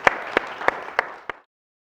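A few sharp, evenly spaced claps greet speaker Owain at a school talk, five distinct hand claps ringing close and clear before cutting off into silence.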